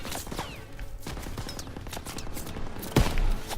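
Rapid bursts of gunfire and explosions from Call of Duty WWII, set in the D-Day landings, crackle continuously as a machine gun nest is targeted, with one sharp louder blast near the end.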